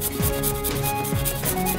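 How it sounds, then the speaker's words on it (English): A pestle grinds garlic and hot peppers into paste in a mortar, rhythmic close scraping and rubbing strokes repeating about once per second with no talk. "Now rub in some garlic."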